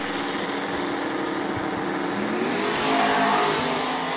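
A Chevelle drag race car launches hard off the line at a street drag event, its engine a loud, continuous roar that swells and climbs in pitch as it pulls away, with no voices over it.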